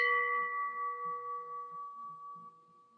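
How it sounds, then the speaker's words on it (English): A heavy lead cut-glass piece flicked by a finger rings with a clear, pure sustained tone that decays slowly over several seconds, alone and fairly quiet, with faint low rumbling underneath. "Now listen to cut glass with lead."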